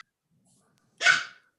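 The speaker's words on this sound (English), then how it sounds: "Is that a dog? There is a dog in the background." A dog barks once in the background during an online committee session, a single short, fairly loud bark after a second of near silence.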